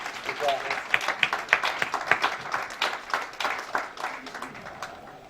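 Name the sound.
audience applause at a seminar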